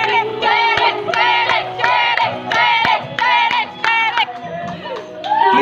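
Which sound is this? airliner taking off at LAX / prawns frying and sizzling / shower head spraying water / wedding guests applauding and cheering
wedding guests applauding and cheering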